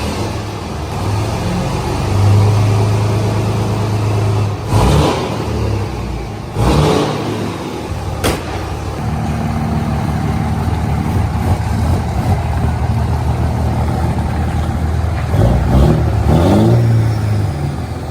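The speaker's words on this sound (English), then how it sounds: "So I guess give her first start." Diesel pickup truck engine turning over for its first start after a head stud install, running loud and close with a deep steady rumble and a couple of brief revs, no voices.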